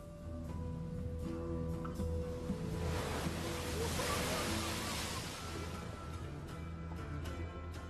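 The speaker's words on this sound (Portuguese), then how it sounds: "cercado de toneladas de água e ondas arrebentando" Ocean waves break and churn around surfers, a broad roaring wash that swells to a loud peak midway and then eases, with wind rumble over the microphone and no talk.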